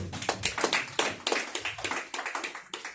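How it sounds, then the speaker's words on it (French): A church congregation applauding, with close, rhythmic bursts of hand clapping that keep up a steady beat for several seconds. "Acclamez pour la gloire de Dieu"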